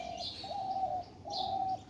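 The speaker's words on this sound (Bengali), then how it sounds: "সকালবেলা কি সুন্দর পাখিদের আওয়াজ হচ্ছে।" Birds calling in a garden on a morning in Newtown, Kolkata: repeated soft cooing phrases with brighter chirps above, fairly close and steady, with no talking.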